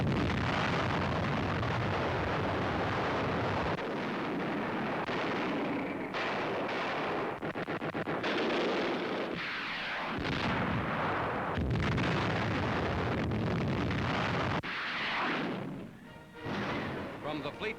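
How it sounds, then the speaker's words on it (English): Heavy naval guns from US 7th Fleet warships pound the shore in a pre-invasion barrage at Brunei Bay, Borneo, in 1945: dense, continuous booming and rumbling blasts over a steady roar, with a narrator speaking throughout. "ships of the United States 7th Fleet open a 3-day pre-invasion barrage."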